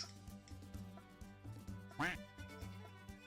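A duck quack sound effect, triggered by a stream chat command, goes off once clearly over quiet background noise during a livestream.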